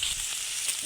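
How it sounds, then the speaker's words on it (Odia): An egg sizzles in a hot pan at an outdoor cookout in a mango orchard, giving a steady, fairly quiet crackling hiss with no gaps. "ଆମର ଗୋଟେ ଅଣ୍ଡା ପୁରା ଛାଣା ହେଇଗଲାଣି"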